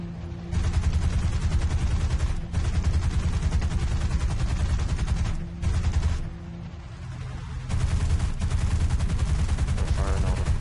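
Aircraft cannon fire in the War Thunder air combat game: loud, dense bursts of rapid shots in long sustained strings with brief pauses, over a steady engine drone, with a voice talking briefly.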